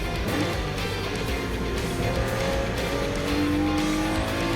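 A race car roars through the first corners at speed, a loud sustained engine drone with rising gear whine and tyre noise, close and continuous with no talk.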